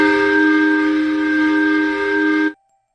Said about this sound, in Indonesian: terdengar suara peluit panjang yang menandakan waktu sudah menunjukkan jam 9 malam